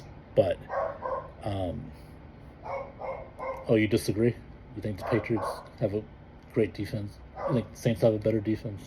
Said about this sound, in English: That's just the dog next door barking